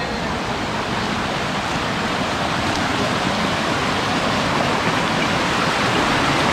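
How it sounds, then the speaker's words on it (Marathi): A forest stream on a trek through the Malshej Ghat woods rushes in a steady, close, broadband wash of flowing water, unbroken and alone without any voices. "मस्त ओढा लागला आहे."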